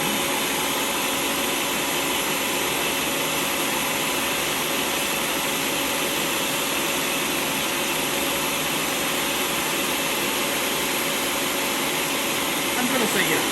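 A 1000-watt Ninja Professional food processor runs steadily while pureeing, giving a loud, continuous motor whir and blade roar from start to finish with no break.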